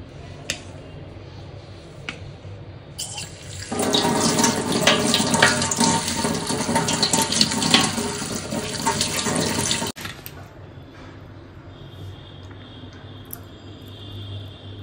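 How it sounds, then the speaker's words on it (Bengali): Tap water runs into a strainer holding chopped cucumber, a loud splashing rush that starts a few seconds in and stops sharply, leaving quiet room noise. "এবার এটাকে একটু ধুয়ে নেব, ছাঁকনির মধ্যে দিয়ে ধোবো"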